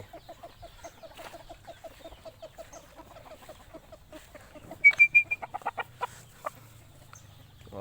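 Chickens cluck nearby in a steady run of short repeated calls, then a burst of louder squawks and clucks.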